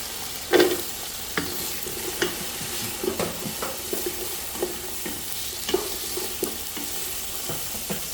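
Carrots stir-frying in a pan for chow mein, a steady loud sizzle with repeated scraping and tossing strokes of a utensil against the pan at an irregular rhythm, close up with no talking.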